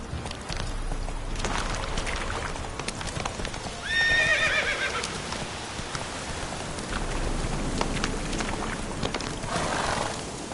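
A horse gallops with steady rhythmic hoofbeats in The Witcher 3, close and moderately loud, and a brief whinny breaks through partway.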